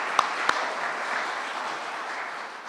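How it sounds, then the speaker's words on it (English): An audience at a university construction celebration applauds, a steady wash of clapping that is moderately faint, with a couple of sharper claps at the start. "I think that deserves a round of applause."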